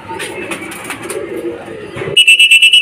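Homing pigeons arriving at a derby loft coo and call amid rustling and nearby voices, ending with a loud, steady electronic beeping.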